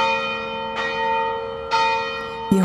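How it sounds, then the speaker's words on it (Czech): The St. Wenceslas church bell rings in its tower, sounding three distinct resonant strikes at an unhurried pace, each leaving a long humming tone that lingers between hits. "Na světce si však každý může vzpomenout také při zvonění kostela. Ve věži totiž visí zvon svatého Václava."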